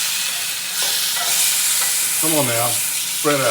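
Food sizzles loudly and steadily on the griddle of a new Monument grill outdoors, a broad hiss under a voice.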